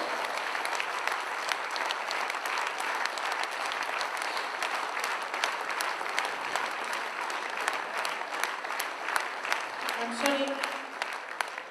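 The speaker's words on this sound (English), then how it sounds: "As Dr. Lim Seo Jin really requires applause." An audience rises for a standing ovation, filling the room with dense, steady clapping that stays loud and continuous from start to finish with no voices above it.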